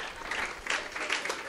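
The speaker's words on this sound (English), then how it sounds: "Clap for him. Clap for him." Short burst of audience clapping during a preaching session, a soft, dense patter of hands lasting just over a second, faint and distant with no voices.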